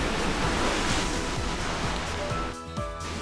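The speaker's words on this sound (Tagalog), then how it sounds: "Sobrang lakas ng hangin, ang alon." Waves crashing on the rocky shore at Abot Cave under strong wind, a dense continuous roar of surf and wind buffeting the microphone, loud and close.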